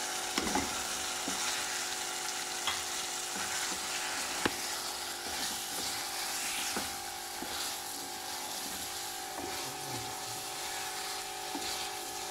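Fish frying in spicy masala in a pan, a steady close sizzle with scattered small pops and crackles throughout, no talking.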